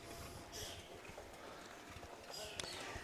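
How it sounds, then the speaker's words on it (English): Racehorses warm up on a dirt harness track at the Delaware qualifiers, their hooves clip-clopping in a loose rhythm against a constant outdoor wash, with occasional louder thuds near the end. "A few horses are out warming up."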